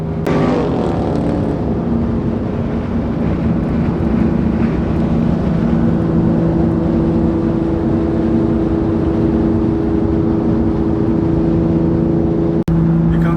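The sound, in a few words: car accelerating in speed bursts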